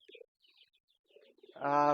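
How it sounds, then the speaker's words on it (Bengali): Pigeons at a pigeon farm coo close by, a few soft low murmurs followed by one louder, fuller coo at the end. "আমার পিছন সাইডে দেখেন কবুতর"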